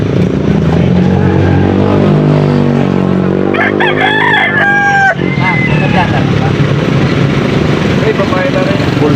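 A full-grown gamefowl stag of the talisayin type crows loudly and close, a single rising and falling call over a steady background hum, with people talking around it at a fowl market.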